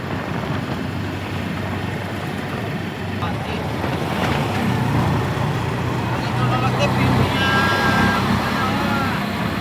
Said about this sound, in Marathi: पहिल्या गाड्या कशा येतात हे बघा